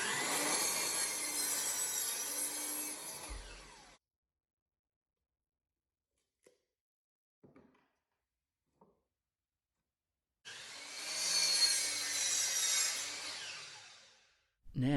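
A power saw cuts 3/4 inch plywood pieces to size in two loud bursts separated by a long quiet stretch with faint clicks and handling noises.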